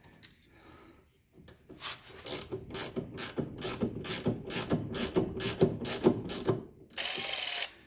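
A tool ratchets a suspension adjuster on a Mercedes-Benz W116 300SD, held with an Allen key: a steady run of about fifteen sharp, evenly spaced mechanical clicks, close and fairly loud, with no talking.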